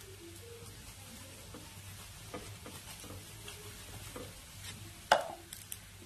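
Bottle gourd paratha roasting in ghee on a flat pan makes a faint, steady sizzle with soft scraping, then one sharp clink and a brief flare of crackling near the end.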